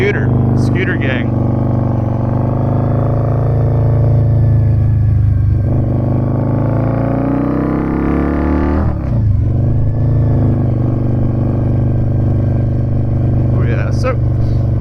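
A Harley-Davidson V-Rod motorcycle engine rumbles steadily and close, rising and falling in pitch as the bike is ridden slowly into a building to park, with someone talking over it.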